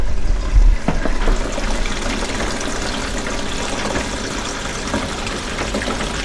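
A newly fitted drain pipe under a sink carrying water emptied by an appliance, a continuous close gushing rush of draining water, steady and fairly loud throughout.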